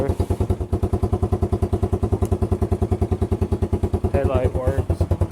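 A four-wheeler ATV engine running in rainy weather, chugging in a fast, even pulse that stays steady throughout, with a brief voice near the end.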